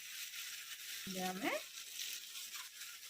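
Mutton frying with ginger in a pan for an Odia dhaba-style spicy mutton kasa: a steady broadband sizzle runs throughout, with a short stirring scrape near the middle.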